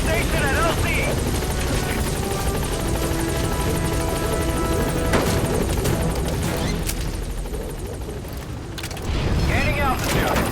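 The Pequod helicopter in Metal Gear Solid V hovers at a landing zone with a loud, continuous rotor thrum. Shouted radio voices and scattered gunfire sound over it, and the noise dips briefly before surging again.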